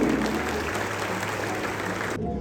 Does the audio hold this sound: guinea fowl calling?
no